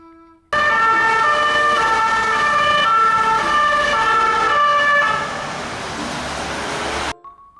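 A toy police school bus sounds its electronic siren, a loud, steady wailing tone that starts abruptly, holds for several seconds, dips slightly in volume near the end, then cuts off.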